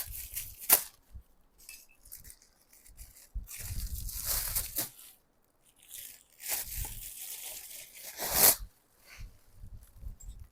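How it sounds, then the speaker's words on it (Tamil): Plastic packaging around a set of three oil frying pans is torn and crinkled open in short irregular bursts with quiet gaps, close and alone. "இது நான் கவரில் ஓப்பன் பண்ணி காமிக்கிறேன் பாருங்க"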